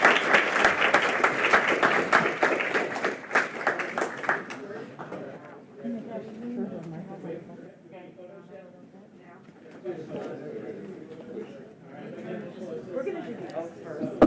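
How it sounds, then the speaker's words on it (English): Applause at a Falls Church City Council meeting for young children: loud clapping for about four seconds, giving way to room chatter and murmured voices for the rest. "let's have a big round of applause for these very impressive young children."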